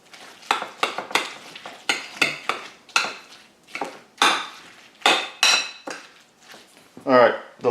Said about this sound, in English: we're going to add the jalapenos. Let's do 2 big spoonfuls to start out